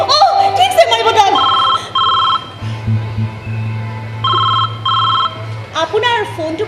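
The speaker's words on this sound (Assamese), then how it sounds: "আপোনাৰ ফোনটো বাজিছে নেকি" A mobile phone ringtone repeats in short, regular bursts of electronic tones during an Assamese stage play, alongside a low hum, with voices talking around the rings.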